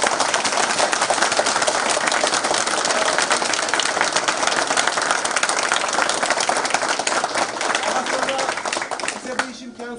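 Dense, loud applause from a crowd at the opening of a Gross Market store, continuous clapping for about nine seconds before it breaks off and a voice begins speaking.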